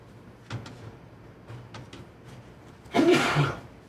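A single sharp sneeze bursts out near the end after a few soft clicks and shuffles; close and brief.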